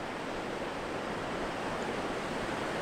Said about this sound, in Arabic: شوفوا صوت الأمواج بنات، صوت البحر